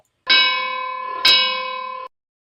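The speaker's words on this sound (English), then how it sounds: "But that's the opening bell." Wrestling-style opening bell sound effect ringing twice in quick succession, a bright metallic clang that sustains and fades, heard alone and close.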